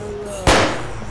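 A single sharp gunshot fired out through a window in the video game ARMA 2, a loud close crack with a short decay over a steady background hum.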